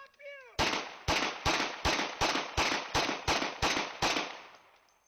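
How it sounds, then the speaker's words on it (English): Ten evenly spaced gunshots ring out in rapid succession as police fire at a suspect, each a sharp loud crack with a short echoing tail, preceded by a brief electronic chirp. "2 shots fired."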